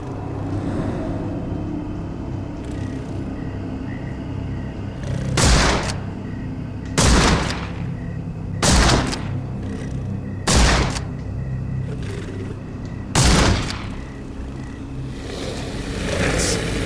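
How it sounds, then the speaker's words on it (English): Rifle shots in the Sherlock Holmes: The Awakened video game ring out about six times, one every couple of seconds, each sharp and loud over a steady low outdoor rumble. "Holmes, hand me the rifle. I can shoot the ropes holding a few of those poor souls."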